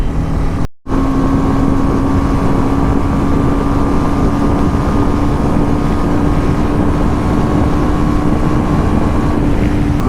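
A BMW GS motorcycle cruising on the NH44 highway sends up a steady engine drone under heavy wind rush, loud and unbroken except for one brief dropout near the start.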